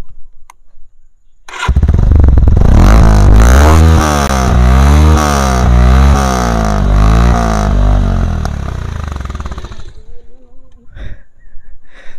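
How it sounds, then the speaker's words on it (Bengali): A modified Bajaj Pulsar motorcycle fires up and its loud aftermarket exhaust revs hard for several seconds in rising and falling waves before dropping away, close by, with a brief voice at the end. "এক্সস্টের মডিফিকেশান আমরা দেখছি এক্সস্টের সাউন্ডটা একটু শুনি"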